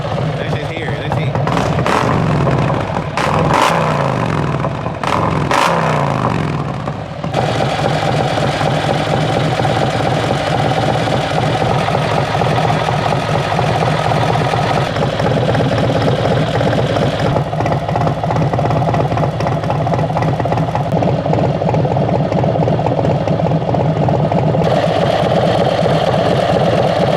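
A Harley motorcycle with a cam and performance exhaust idles loudly with a deep, lumpy rumble, a few revs blipping early on before settling into a steady, throaty idle.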